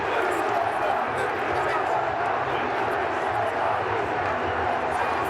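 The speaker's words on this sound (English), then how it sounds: "And now the Queensland crowd, this is like the Colosseum in Rome." A large State of Origin rugby league crowd in Queensland roars loudly and continuously, a dense wall of cheering and shouting that holds steady throughout.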